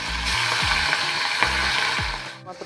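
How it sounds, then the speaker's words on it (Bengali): Shrimp fry in a pan, a bright continuous sizzle and crackle with a few scraping stirs and clinks, close and steady before a brief drop near the end. "এই চিংড়ি মাছগুলো প্রথমে ভাজা করে নেব"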